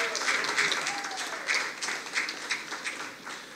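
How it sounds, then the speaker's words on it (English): Moderately sized audience clapping at a theater event, a fairly faint, slightly uneven patter of many hands, with a brief voice or tone sliding underneath early on. "Let's have a big round of applause for you coming out."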